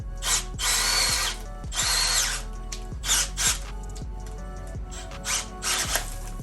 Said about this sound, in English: So let me drill this out and I'll be right back.